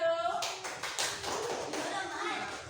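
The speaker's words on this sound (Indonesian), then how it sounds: "tepuk tangan untuk kelompok 1." A classroom of children applauding a group of classmates, many hands clapping in a dense, steady patter that starts abruptly and carries on with voices mixed in.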